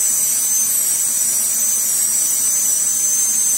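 A dental drill grinds a bulk implant abutment, giving a steady, loud high-pitched whine that holds without a break, close to the microphone, with no talking.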